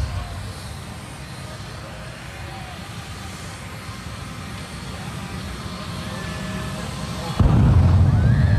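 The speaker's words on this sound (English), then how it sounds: "here is jet truck which is powered by a fighter jet engine." At an airshow, a jet truck powered by a fighter jet engine roars continuously in the distance, then a fire shot bursts out as a sudden loud, rumbling whoosh near the end, with a voice talking over it.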